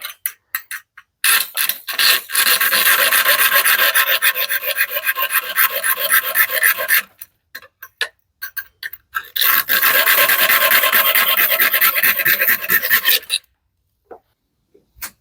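A Parkside PHSS 3 B1 reciprocating hand saw cutting through a thick piece of metal, loud rapid rasping strokes in two long sustained bursts separated by short pauses and scattered clicks, close by with no talking.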